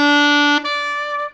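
Saxophone sounding a single sustained B, clear and loud with a slight change in tone partway through before it fades at the end.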